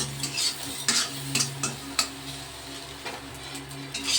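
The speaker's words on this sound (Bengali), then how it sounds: "আমি ঝিরি করে ডিমটাকে আমি ভেজে নিচ্ছি।" Katla fish roe frying gently in a pan, with a steady soft sizzle under repeated scraping and stirring clicks of a utensil against the metal, fairly close, no talking.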